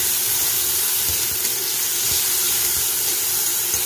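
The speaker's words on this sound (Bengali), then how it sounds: "এবার ভালো করে ভাজতে হবে" Oil frying steadily in a pan as an Indian sour curry base cooks, a continuous close hiss and sizzle with faint clatters and no talking.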